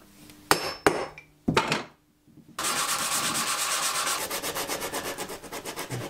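Sandpaper of 120 grit rubs over a steel axe head in steady back-and-forth strokes, a few separate scrapes first, then a long, continuous rhythmic sanding run, close and fairly loud with no talk.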